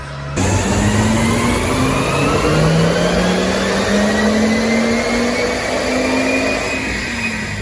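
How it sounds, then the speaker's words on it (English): Volvo 850 T5 engine revving hard on a dynamometer warm-up run, a loud continuous roar rising steadily in pitch through the gears, heard alone with no talk. "First warm-up run for the 850 T5 and we are off."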